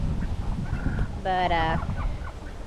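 An old pet hen gives one short, harmonic call, close and moderately loud over steady outdoor background noise, with a brief spoken word nearby.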